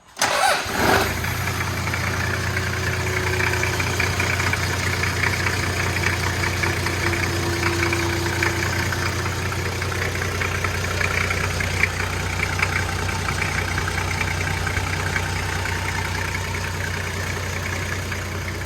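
A Toyota 1HZ turbo diesel engine in a Landcruiser cranks and catches on its first start, then settles into a steady, loud, rough idle that holds unbroken to the end.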